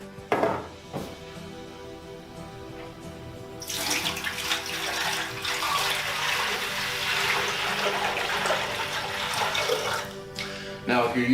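A few clinks, then water pours steadily into the basin of a Sirena vacuum cleaner with a rushing, splashing sound that continues for several seconds.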